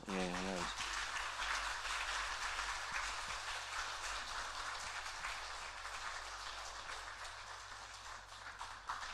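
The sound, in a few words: church congregation applauding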